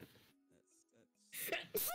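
A short, sharp sneeze bursts out near the end, right after a quiet voice speaks during a Hypixel game session.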